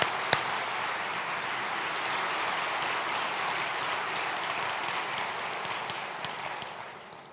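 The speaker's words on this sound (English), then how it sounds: "Round of applause." An audience at a breakfast event gives a round of applause, a steady, moderately distant wash of clapping with a few sharper individual claps, sustained and then tapering off.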